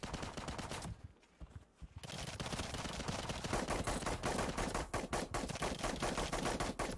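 Rapid rifle gunfire in the PC shooter The Cycle, loud bursts of closely spaced shots that pause briefly near the start and then resume in a steady, punchy stream.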